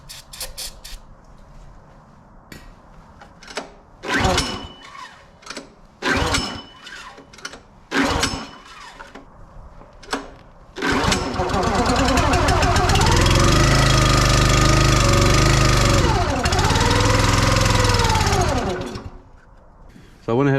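A log splitter's small engine sputters through several short, failed cranking attempts. It then catches and runs loud and steady for about eight seconds before dying away. Its pitch wavers as it runs, and it is close and dominant throughout.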